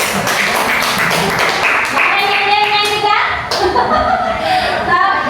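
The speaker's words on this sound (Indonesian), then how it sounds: "tepuk tangan dulu untuk kelompok 1" Pupils in a maths classroom clap together for a group of classmates, a brisk run of hand claps mixed with children's voices and a brief spoken line.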